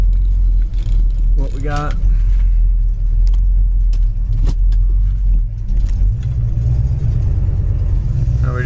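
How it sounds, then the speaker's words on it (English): A 1968 Ford XL fastback's engine idles with a steady low rumble, then shifts as it is put into first gear, the tone deepening and thickening; someone speaks briefly over it with some clunks in between. "I'm just gonna put this thing down in first once and see if those carburetors are spitting and sputtering"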